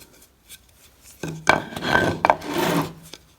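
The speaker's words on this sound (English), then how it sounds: "And I'm just cutting the base out of this plywood." A plywood base for a barn wood Christmas tree being cut by hand, with a few rasping strokes after a quiet start, growing louder and rougher in uneven bursts.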